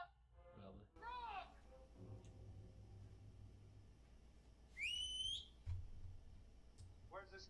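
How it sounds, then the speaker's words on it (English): A man whistles in the 1959 horror film The Killer Shrews, a clear rising two-part call like summoning a dog, heard once midway over low film hum with brief voices around it. "He's whistling for his buddy like a dog."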